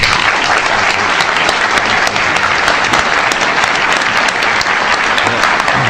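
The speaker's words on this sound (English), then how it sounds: "please join me in a warm round of applause" A large audience applauds steadily for a guest speaker at a public lecture on apartheid in Canada, the dense clapping loud and continuous from start to finish with no talk over it.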